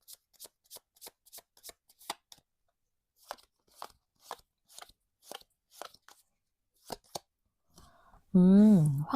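Lenormand cards being shuffled and laid out for a tarot reading, a run of crisp, close riffling bursts in quick succession, then a short pause and more shuffles, ending with a brief rising electronic chime.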